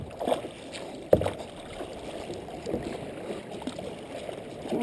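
Kayak paddles dip and pull through water in a few distinct splashing strokes over a steady wash, close by and moderately loud, with no voices.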